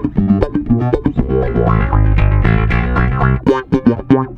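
A funky bass guitar line through an EBS BassIQ envelope filter pedal, notes sweeping with a wah-like quack, played alone with rhythmic plucked phrases.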